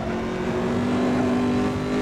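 A Corvette C7R race car engine screams at high, sustained revs in the Assetto Corsa racing game, a steady loud drone near 155 miles an hour with no talk over it.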